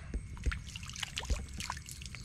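Clear, cold natural stream water splashing and trickling as it is scooped and poured over a face in a rocky ravine, with a few soft splashes over a steady background of running water.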